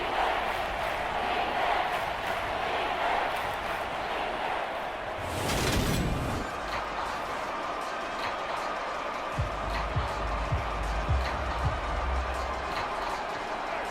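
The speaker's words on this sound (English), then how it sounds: "That just means this crowd's going to get even louder." Stadium crowd roar from Madden 23, Raiders at Saints, a steady dense wash of cheering that swells briefly mid-clip before settling back, with a commentator talking over it.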